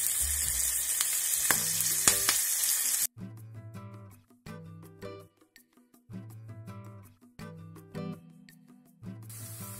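Salted pork belly fries and spatters loudly in a pan for a few seconds. The sizzle then drops under melodic background music and returns briefly at the end, with no talking.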